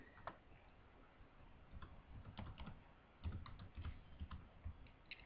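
Computer keys clatter in quick, uneven bursts of light taps, close but faint over a low background hiss, with no voice.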